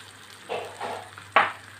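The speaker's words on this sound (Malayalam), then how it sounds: "കട്ട് ചെയ്ത് വെച്ചിരിക്കുന്ന വഴുതനയും ഇതിലോട്ടൊന്ന് ചേർത്ത് കൊടുക്കാം" Cut eggplant sizzles in a pan, with three short bursts of stirring and frying noise, the last one sharper and louder, close and brief.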